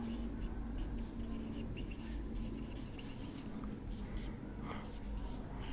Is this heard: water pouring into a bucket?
no